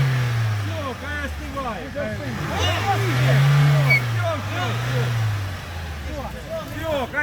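A car engine drones and rises in pitch as it revs, steady and fairly loud, while people talk over it throughout.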